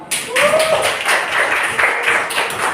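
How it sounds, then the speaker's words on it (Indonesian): Classroom pupils clapping for a classmate named Aaron, a short burst of hand claps in loose rhythm, close and fairly loud, with a brief voice near the start. "Tepuk tangan untuk Aaron"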